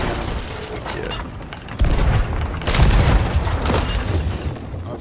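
A ship's cannon fires cannonballs from a boat in a video game, with loud booming blasts and dense rumbling impacts that repeat across the span amid continuous game noise.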